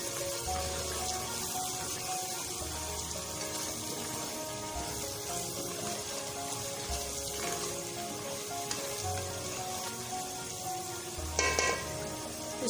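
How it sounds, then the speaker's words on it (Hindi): Spices and green chillies sizzling steadily in a pan for a masala fish curry, a soft continuous frying hiss with a faint stirring scrape and no talk. "इसको भी हम कुछ देर के लिए फ्राई करेंगे।"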